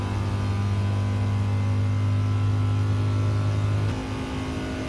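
A weak car in Gran Turismo 7 drones at about 70 miles an hour uphill, limited to four gears, a loud steady engine tone that holds for four seconds and then drops slightly, with no talking.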